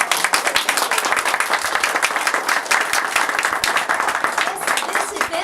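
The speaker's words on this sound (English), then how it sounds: "We need a round of applause." An audience at a talk about Marjorie Kinnan Rawlings breaks into sustained applause, dense, even clapping that carries on steadily throughout.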